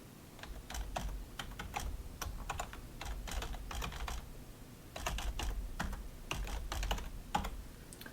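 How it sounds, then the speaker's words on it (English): Computer keyboard typing as an email address and password are entered on a login page, with bursts of quick, close keystrokes separated by short pauses, with no speech. "you have to put in the email and password that you used when you entered your registration"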